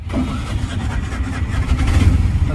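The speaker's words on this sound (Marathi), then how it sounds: "आता रिक्षामधून फिरणार पूर्ण." Auto rickshaw engine cranking and catching, then running with a close, rough mid-pitched chug that grows louder and steadier as it idles and revs.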